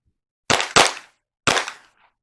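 Springfield XD-M pistol fired on an outdoor range, three loud, sharp close shots: two in quick succession, then a third after a pause, each with a short fading tail.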